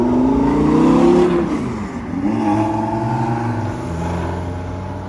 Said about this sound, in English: Sports car. Is this Porsche?